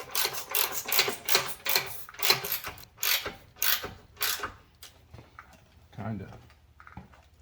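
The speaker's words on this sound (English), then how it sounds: "Back here, I can put a ratchet." A ratchet clicks in quick bursts while tightening a front sub-frame bolt on a 2007–2017 Jeep Patriot or Compass, about ten sharp rhythmic runs that slow and fade, followed by a faint clunk.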